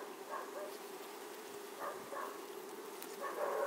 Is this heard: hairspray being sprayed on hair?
no